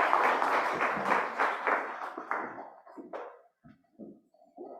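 Seminar audience applauding after a research presentation: dense, steady clapping for about three seconds, then thinning to a few scattered claps and quiet murmurs.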